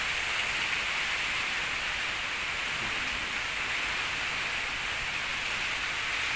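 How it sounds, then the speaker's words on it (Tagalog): Heavy rain from Typhoon Paulo under a Signal No. 3 warning, a dense, steady hiss that stays loud and unbroken from start to finish with no voices. "malakas na yung ulan"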